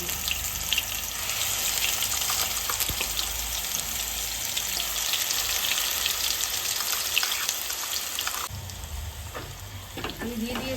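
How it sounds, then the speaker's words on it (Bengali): A paste of garlic, green chili and onion sizzles steadily in hot oil, with a continuous close crackle and occasional stirring scrapes. The frying grows slightly quieter near the end, with a faint voice briefly under it. "আমার যে তৈরি করা মশলাটা রসুন কাঁচা লঙ্কা এবং পেঁয়াজ আমি পেস্ট করে নিয়েছিলাম এই মশলাগুলো তেলের মধ্যে দিয়ে দেবো"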